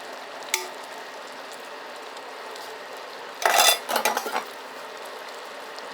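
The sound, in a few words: chopping tomatoes into big pieces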